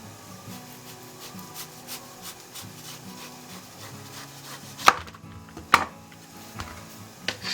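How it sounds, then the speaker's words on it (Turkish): A knife cuts the lid off the top of a melon, giving soft scraping and rubbing strokes with two sharper cracks as the blade breaks through, close and fairly quiet. "Şimdi önce üst kısmındaki kapağı keserek başlayalım."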